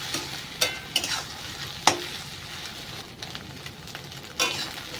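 Vegetables and egg fry in a pan with a soft, steady sizzle, punctuated by a few sharp spatula knocks and scrapes as they are stirred.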